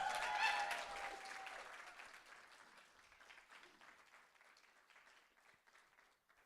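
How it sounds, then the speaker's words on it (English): An audience at a Redhawk Talks event claps, starting with some cheering and whoops, then fading into softer, thinning applause that trails off quietly. "let's give a round of applause for Redhawk Talks"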